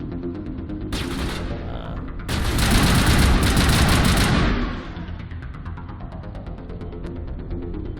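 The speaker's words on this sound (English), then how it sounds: "One charge remains. Boom, headshots." Gunfire in the Mass Effect video game: a short volley rings out, then a longer, heavier barrage of rapid shots and blasts, loud and close, trailing off into a steady background rumble.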